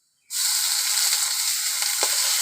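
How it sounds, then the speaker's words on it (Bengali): Ginger garlic paste hitting hot oil while cooking a crab curry, with a sudden loud hiss that flares up and holds as a steady, bright sizzle with faint crackles. "দিয়ে দেবো আদা রসুন বাটা"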